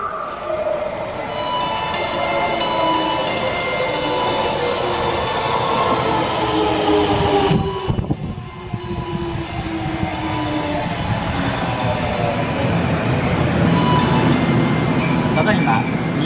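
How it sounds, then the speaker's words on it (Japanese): A Kyoto subway 10 series train bound for Kokusaikaikan rumbles and screeches into Imadegawa Station, its whining motor tones gliding down as it slows, with a brief clatter midway and a Japanese platform announcement over it. "ただいま2番乗り場に到着の電車は国際会館行きでございます"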